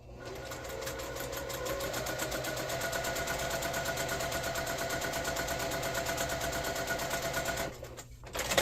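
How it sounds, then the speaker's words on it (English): Sewing machine stitching a quilt block for a diamond table runner, a fast, even mechanical rattle running steadily at close range, then slowing and stopping just before the end. "I'm going to sew 1/4 inch away from this drawn line on each side"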